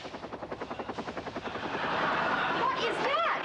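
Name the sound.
helicopter arriving overhead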